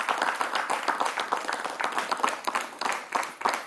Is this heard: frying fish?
no